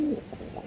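A pair of khaki pigeons coos softly and close by, a brief run of low, throaty murmurs with no other sounds.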